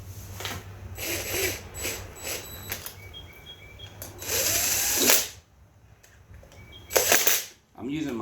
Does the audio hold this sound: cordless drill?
yes